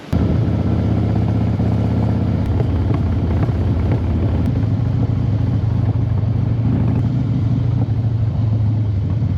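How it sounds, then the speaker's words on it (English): Motorcycle engines rumble loudly and steadily on a country road, a low continuous drone mixed with heavy wind buffeting the microphone, with no voices. "A lot of bikes here."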